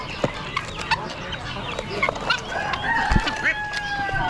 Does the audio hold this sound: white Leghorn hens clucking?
yes